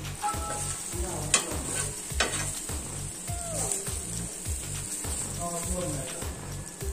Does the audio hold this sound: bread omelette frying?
yes